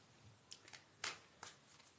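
Unicorn oracle cards are shuffled by hand in a few quick, soft riffling bursts with small gaps between them, close and fairly quiet.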